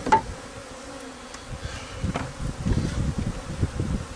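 Honey bees buzz in a dense, close drone as they are removed from inside a wall, with scattered rustling and light knocks underneath.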